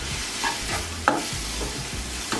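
Thyme and mixed herbs stirred through in a hot pan for plantain burgers, a brief burst of sizzling with a few sharp scraping strokes and a light knock of the utensil.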